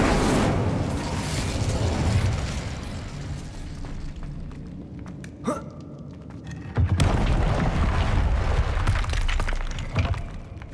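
Fire spell Incendio cast in Hogwarts Legacy, loud fiery whooshes and booming bursts with a sharp crackling blast near the middle and another burst after, rumbling continuously throughout.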